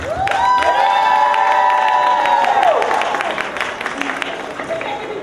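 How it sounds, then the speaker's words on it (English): A crowd at an evening rally applauds and cheers, with clapping, whoops and a high sustained shout rising over the noise, loud and close, then tapering with scattered claps. "We need you to really give a huge round of applause for all the heroes who are making this happen tonight"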